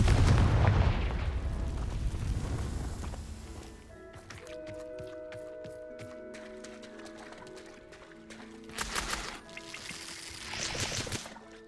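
A Confringo spell in Hogwarts Legacy detonates with a loud, booming explosion at the start that decays into a rumble, followed by quieter tonal chimes, clicks and scattered smaller bursts.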